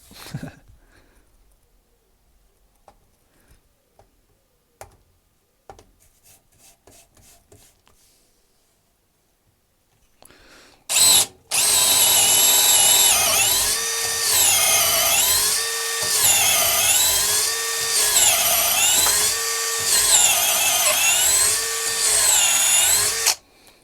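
A cheap Chinese brushless 18V Makita-clone drill driver bores into material: after a quiet stretch of small handling clicks, the motor kicks in loud and close, whining steadily with repeated rising and falling pitch as the bit bites and eases.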